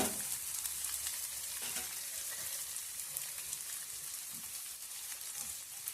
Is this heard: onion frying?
yes